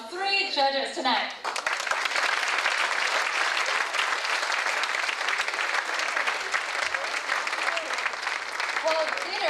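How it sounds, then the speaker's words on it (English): Sustained applause from a dinner audience at a celebrity cooking challenge gala in Toronto, honouring three judges; steady, dense clapping fills the room throughout after a brief voice at the start. "another round of applause for our three judges tonight"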